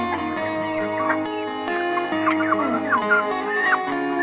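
Colombian Brahma chickens, including a nearly two-month-old young male, cluck and call softly close by, several overlapping murmurs over steady background music.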